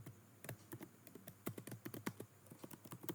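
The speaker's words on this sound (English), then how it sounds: "We will type this time." A computer keyboard is typed on at a quick, steady pace, with a dense run of close, crisp key clicks and no voices over a faint hum.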